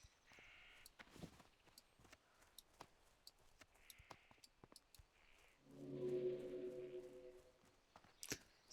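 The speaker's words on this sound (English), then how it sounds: "Birds, birds," Bird caws in a World of Warcraft landscape: several sharp, fairly faint calls scattered over quiet ambience, with a louder low rumble and hum swelling midway.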